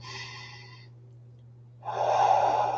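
A slow, deep breath is taken: a soft, breathy inhale fades into a pause before a louder, fuller airy exhale, close to the microphone over a faint low hum.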